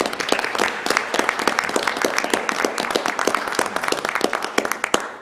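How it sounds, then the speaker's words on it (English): Close, lively applause from a small crowd at a commissioners' meeting honouring graduates, with individual hand claps distinct and continuous throughout, no talking. "If y'all would please stand up and we give them a round of applause."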